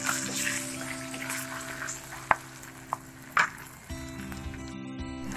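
Carom seeds (ajwain) frying in a pan give a faint steady sizzle, broken by a few sharp clicks and pops partway through, with a low kitchen hum underneath.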